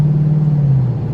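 A car with a 6R80 automatic transmission accelerating hard produces a loud, close, steady low engine drone that sags slightly toward the end; no tire squeal stands out.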